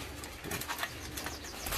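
Spotted doves on a bird farm in Ba Vì, Hà Nội, with soft cooing and rustling around the birds amid steady hissy ambient noise, fairly close and moderate in level.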